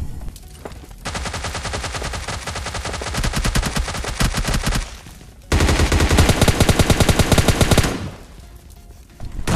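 Gunfire in the battle royale video game PUBG Lite: two long bursts of rapid automatic fire, loud and close, separated by a short pause.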